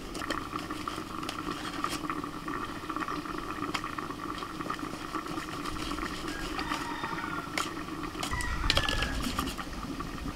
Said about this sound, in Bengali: এবার ঢাকা দিয়ে দিচ্ছি, আলুটা সিদ্ধ হোক।